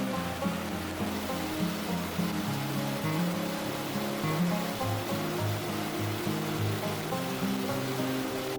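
A roaring mountain stream along the trail to Yarisawa on Mount Yari, a steady, dense rush of water that never lets up, with a faint tonal layer underneath.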